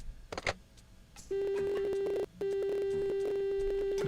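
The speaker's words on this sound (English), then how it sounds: "that buzzer sound is from hell" Telephone busy signal buzzing in a video game (Shenmue): a loud, steady electronic tone that holds for about a second, breaks briefly, then resumes continuously, with faint clicks before it starts.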